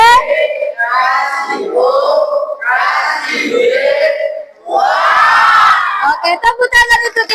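An Indonesian primary classroom gives a rhythmic group clapping chant, with children's voices shouting and cheering together in loud bursts, then a run of quick sharp claps near the end.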